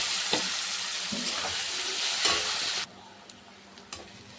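Onion frying in hot oil while being stirred, a loud broad sizzle with scraping strokes of a spoon, then cutting abruptly to a quieter hiss with a few soft knocks.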